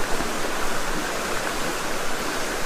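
River water flows steadily at a riverside fishing spot, a loud, continuous rush of broadband noise that fills the whole stretch without pause or voices.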